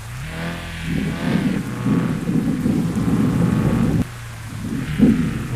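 Thunder rumbles low and heavy over steady rain and a Jeep Wrangler Rubicon's engine drone, swelling and fading in a stormy off-road game soundscape in Bus Simulator Indonesia.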